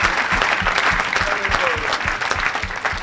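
A church congregation claps at a Pentecost service, with steady rhythmic applause that carries a clear beat throughout and voices calling out beneath it.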